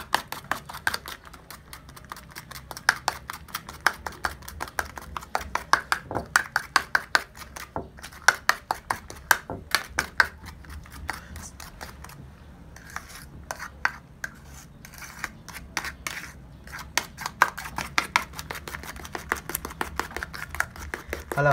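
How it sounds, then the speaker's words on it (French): Rapid rhythmic scraping and tapping of a spoon stirring ginger paste in a bowl, steady repeated strokes close up with occasional short pauses. "Bien remuer."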